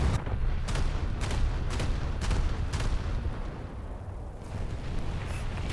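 Naval gun shells firing at a battleship in the game War Thunder, a series of repeated booming shots at irregular intervals over a constant low rumble of engine and sea, fairly loud with no speech.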